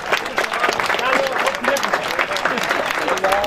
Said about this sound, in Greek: Ένα θερμό χειροκρότημα στους νικητές μας